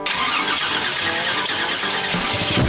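A car engine cranks and catches, then runs with a loud, steady mid-pitched hum close by.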